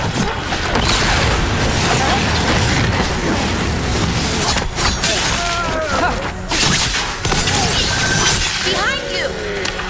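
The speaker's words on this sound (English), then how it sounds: "They've got mortars!" Mortar explosions in a Dragon Age: The Veilguard battle, a dense barrage of booms and crashes layered with combat noise, loud and continuous with a few short dips.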